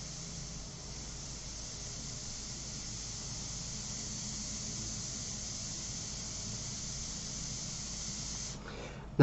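An airbrush sprays pastel paint onto a hard wood board, giving a steady, even hiss that runs unbroken for several seconds at moderate level, ending with a brief louder burst.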